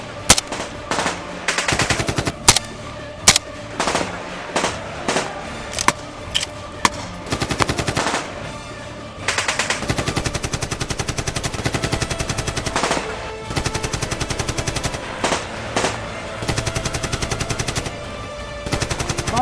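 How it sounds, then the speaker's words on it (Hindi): Heavy gunfire comes from several directions during a military assault on bunkers, with loud, close machine-gun bursts and single shots repeating in fast, uneven volleys, sometimes continuous and sometimes broken by short pauses. "ऑल अराउंड 3-4 डायरेक्शन से मुख्तलिफ जगहों से उनके ऊपर फायर आया"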